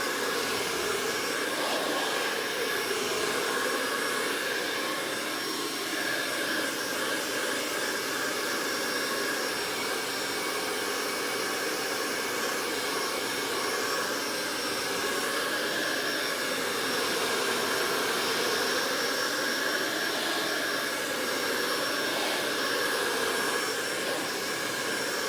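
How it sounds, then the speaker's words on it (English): A blow dryer runs steadily and close, drying an object with a continuous loud whooshing roar and a slight wavering in its airflow throughout. "Let me blow it dry and I'll hold it up."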